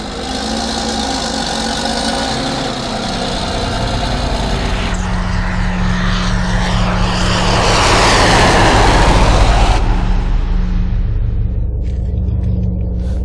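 The engine of a speed-record tractor runs with a loud, steady rumble that swells into a rougher, heavier roar about halfway through, then settles back to a constant drone, heard alone with no voices.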